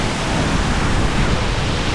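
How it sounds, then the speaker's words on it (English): A waterfall in Ghana pours in a loud, dense, unbroken rush of falling water, heard close up and alone with no voices. "All you can hear is the waterfall itself."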